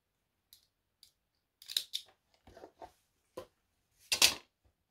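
Scissors snip through a craft bow for a December make, a few light clicks followed by several crisp, close cuts, with one louder cluster of snips near the end.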